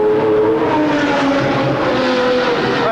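A loud Jaguar XJR-15 race car's V12 engine roars steadily past at Silverstone, a high revving whine with a rising and falling tone throughout.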